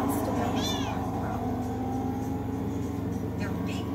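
A cat meows several times, close and fairly clear, with rising and falling cries over a steady vehicle hum, and a voice speaks faintly in the background.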